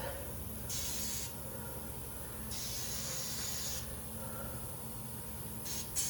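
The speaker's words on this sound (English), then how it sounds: "We'll give her a little spray." Short hissing bursts from an aerosol lubricant can during a CV axle replacement on a 2006-2012 Ford Fusion, several sprays of a second or two each, close and fairly quiet over a low background rumble.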